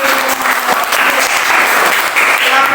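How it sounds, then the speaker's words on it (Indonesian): A classroom full of people claps steadily and loudly for a few seconds, a dense, even patter with no pauses. "Tepuk tangan."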